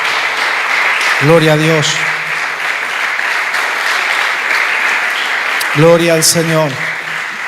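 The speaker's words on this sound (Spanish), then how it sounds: "Dale un fuerte aplauso al Señor en esta noche." A church congregation applauds loudly and steadily throughout. Over the sustained clapping, a man calls out twice in Spanish with praise to God.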